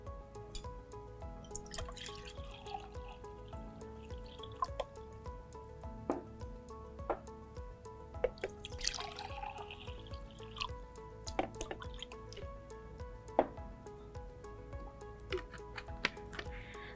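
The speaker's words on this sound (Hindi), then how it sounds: "पानी डालूंगी।" Water poured into two glasses during a product demo, a soft liquid trickle with scattered drips and small ticks running steadily throughout, faint and close, with no talking.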